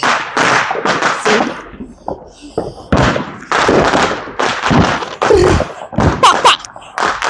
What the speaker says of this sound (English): The black cats sound like gunshots.